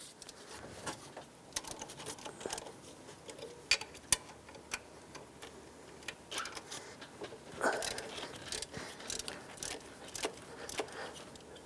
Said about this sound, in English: So with a 13mm socket, let's break these free.